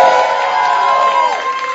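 Joana's fan club cheers for her on a televised singing competition gala, a loud crowd of high voices shouting and whooping together close by. The cheer holds steady, then falls slightly near the end.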